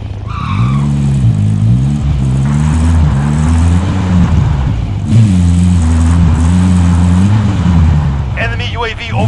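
A car in a video game drives with a loud, wavering engine drone and tire skids, rising and falling in pitch as it speeds along, with brief synthetic blips at the start and end.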